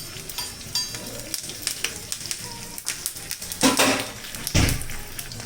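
Sliced onions and curry leaves sizzle in a hot pan while making prawn mappas, a steady crackling hiss broken by stirring scrapes and a few louder bursts of spitting oil near the end.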